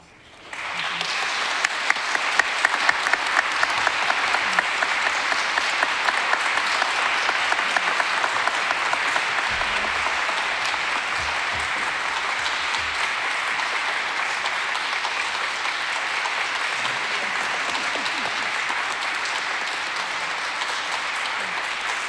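A congregation at an Erev Shabbat service breaks into sustained applause, rising quickly from quiet into dense, steady clapping that carries on evenly for about twenty seconds.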